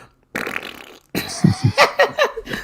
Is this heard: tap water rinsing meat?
no